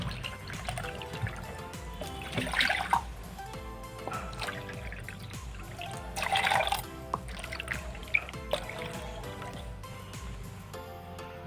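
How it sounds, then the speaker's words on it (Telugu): Water is poured into washed rice in a pot while preparing ragi mudde, with soft drips and trickling splashes in bursts over a faint background hum, no talking. "ఇప్పుడు ముందుగా కడిగి పెట్టుకున్న ఈ రైస్లో 4 కప్పుల వరకు వాటర్ పోసుకోవాలండి"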